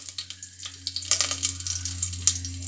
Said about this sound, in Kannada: ಎಣ್ಣೆ ಕಾದಿದೆ ಸ್ವಲ್ಪ ಕರ್ಬೇವಿನ ಸೊಪ್ಪನ್ನು ಸೇರಿಸ್ತೀನಿ